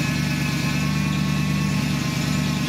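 A truck engine that has sat unused for a while idles after starting, a steady, close, throbbing rumble with no talk.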